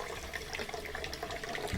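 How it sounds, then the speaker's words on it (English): Leftover water drains out of the drain tube of an LG washing machine that won't empty, a soft, steady trickle and gurgle close by, fairly quiet and continuous, with no talking. "I'm going to open up this tube and let any water that's left in the machine drain out."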